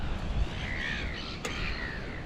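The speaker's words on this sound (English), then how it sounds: "Those are noisy seagulls." Seaside seagulls call a couple of times near a beach and marine reserve on New Zealand's Coromandel Peninsula, drawn-out squawks over a steady wind and surf background.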